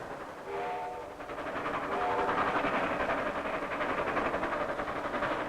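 Passenger ski train cars rolling northward on rails, a steady loud rumble with a brief horn-like tone near the start, continuous throughout with no talk.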